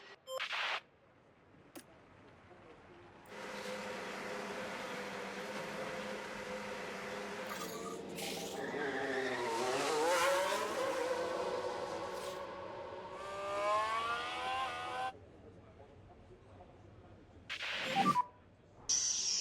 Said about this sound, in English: let's get a car out on the track for its first run and see how it goes